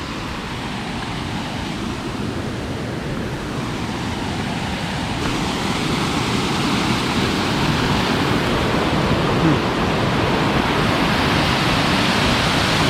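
Steady, dense roar of a waterfall in a forest near Puttur, with broadband rushing water constant and loud throughout, no voices.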